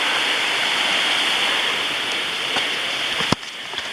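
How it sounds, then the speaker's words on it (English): A waterfall on the Kalalau Trail, Napali Coast, roars in a loud, steady rush of falling water, close and continuous, with a sharp click near the end. "There is a waterfall. It just goes up and up and up."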